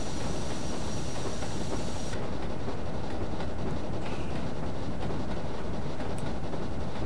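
A steam locomotive running in Train Simulator 2019 on the Goitre Halt to Abermule route, a steady loud hiss and rumble with faint clickety-clack, unbroken and without talk.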